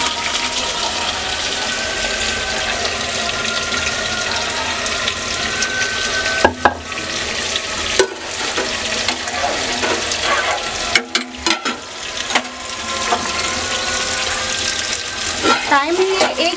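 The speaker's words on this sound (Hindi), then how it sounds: "अब हम इसमें चावल डाल देते हैं।" Rice poured into a pot of water for chicken biryani, making a continuous watery rushing and splashing with a few sharper clatters, loud and close.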